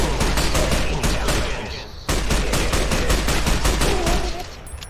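Rapid gunfire in Fallout: New Vegas crackles in fast, loud bursts, with a brief gap near the middle before the shooting resumes just as densely.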